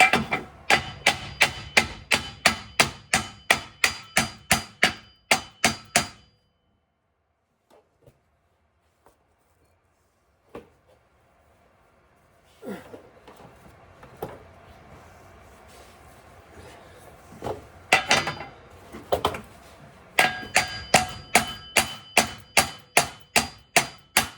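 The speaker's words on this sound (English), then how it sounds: "What I try to do is pound right here on this bung, and then I can usually get them loose." A hammer pounds on the bung of an exhaust header on a 409ci Ford 351 Cleveland in a garage, striking in fast, even runs of loud metallic blows, then a long pause with scattered knocks and clatter before the rapid pounding resumes.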